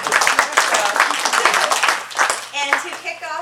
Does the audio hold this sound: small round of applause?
yes